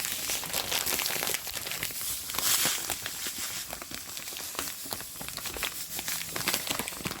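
Sugar pours straight from a crinkling plastic packet into apricot jam being cooked, continuous rustling and crackling plastic with a sandy pouring hiss, close and steady for several seconds.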